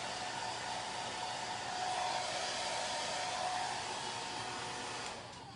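A handheld dryer blows over chalk paste on a Halloween craft project, a steady whooshing roar that holds evenly and then drops off at the end.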